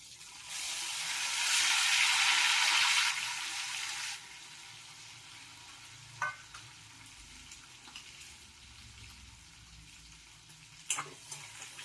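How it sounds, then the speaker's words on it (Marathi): Spices, onion and tomato fry in hot oil in a pan, giving a bright, hissing sizzle that swells loud for a few seconds, then settles into a quieter simmer with occasional clinks. "आणि मग नंतर हे मसाले हे कांदा आणि टोमॅटो ते टाकून छानपैकी आपल्याला थोडंफार का होईना शिजून घ्यायचंय"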